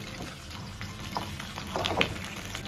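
Sea bass pieces pan-frying in oil give a soft, steady sizzle with a few brighter crackles and pops, fairly quiet and continuous with no one talking.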